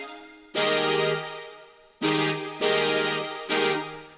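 Future bass synth chords in two layers hit four times, each a bright, wide stab that swells and slowly decays before the next chord lands, played alone with no other parts.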